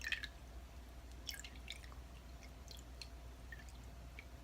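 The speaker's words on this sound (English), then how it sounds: "just a little more rose water and a little more dabs" Rose water being dabbed onto skin, giving soft wet drips and small squishy taps scattered through a quiet, close setting with low background hum.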